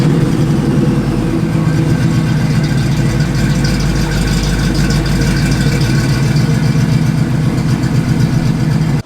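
A stock classic Ford Bronco, such as a 1974 model, runs steadily on the road with a continuous low engine rumble and drone, loud and close throughout, with no talking.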